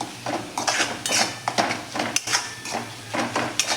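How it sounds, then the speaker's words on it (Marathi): Metal spoon scraping and clinking against a pan as spiced peas-rice ingredients are sautéed over medium gas, giving repeated close, uneven scrapes and taps with no talk. "मीडियम गॅसवरती आपण हे सर्व परतून घेऊयात।"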